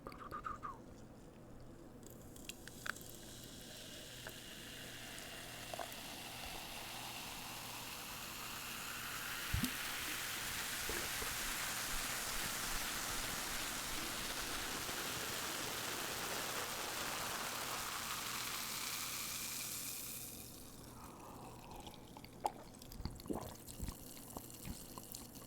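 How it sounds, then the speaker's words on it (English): A cold can of Diet Coke is poured out, sending up a steady, loud fizzing hiss that swells for several seconds and then fades, with a few clinks and drips around it. "Let's just pour out a nice cold, fresh can of Diet Coke"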